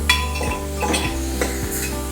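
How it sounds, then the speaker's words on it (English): Finely chopped onions sautéing in a pan for rajma, a soft steady sizzle under repeated clinks and scrapes of a spoon stirring against the pan, close and rhythmic. "Let's saute the onions nicely."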